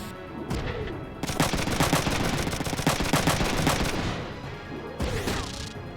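Rapid bursts of gunfire from the video game Front Mission III, dense rattling volleys that run almost continuously and loudly, with a couple of brief sharper blasts at the start and near the end.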